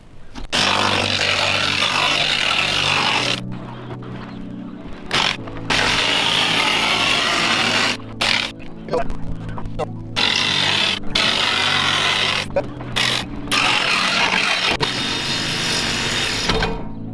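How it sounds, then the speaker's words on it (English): A jigsaw cuts a hole through the sheet-metal roof of a Promaster van for a MaxxAir fan, loud and close, buzzing in long runs broken by short pauses. "Now we'll be doing the jigsaw. Let's get the jigsawing."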